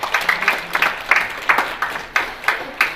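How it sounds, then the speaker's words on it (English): Seminar audience at a Deaf in Government event applauds a presenter with sparse, uneven claps that arrive in separate bursts from a small group, close and fairly loud. "let's give a round of applause to Cynthia"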